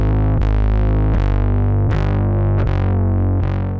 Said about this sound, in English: our distortion is sounding a lot cleaner